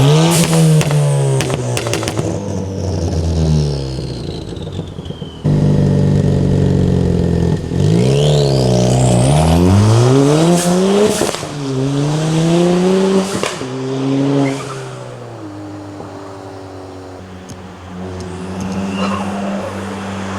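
A hybrid turbo Ford Fiesta ST revs and accelerates hard on backroads, its exhaust rising and falling through several loud, close pulls with brief lifts between gears.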